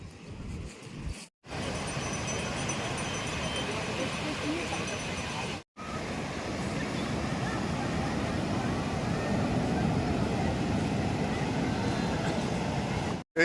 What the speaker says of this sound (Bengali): এই যে এসে গেছি সমুদ্রের ধারে